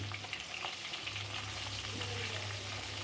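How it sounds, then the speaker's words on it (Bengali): Fresh freshwater fish frying in oil in a pan, giving a steady, close sizzle with soft crackles and spits throughout and no talking. "মাছগুলোকে এখানে একটু লাল লাল করেই আমরা ভেজে নেব"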